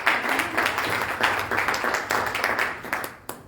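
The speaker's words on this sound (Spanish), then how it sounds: "Dale un aplauso a Dios." A church congregation applauds in a steady patter of clapping, moderately loud and fairly near, with scattered louder claps fading toward the end.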